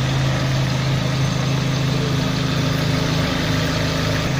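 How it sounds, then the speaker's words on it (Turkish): An Ecotec car engine, started again after sitting unused for years, idles with a steady low hum and even mechanical vibration, close and continuous without any voices. "Uzun yıllar sonra çalışan Ekotek motoru. Çok da güzel çalışıyor arkadaşlar."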